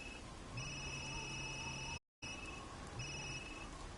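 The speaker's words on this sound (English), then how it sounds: "Am I getting a phone call?" A phone rings twice in Resident Evil Village, each ring a repeating electronic tone over a steady background hiss.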